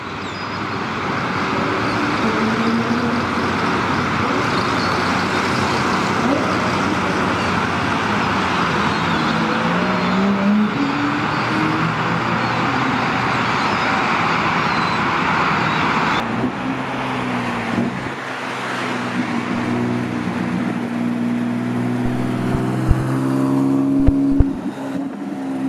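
A Porsche 911 flat-six engine drones continuously at a distance, a steady throaty hum that rises and shifts in pitch as it revs and moves, with faint roadside ambience around it.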